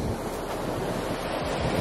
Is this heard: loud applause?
no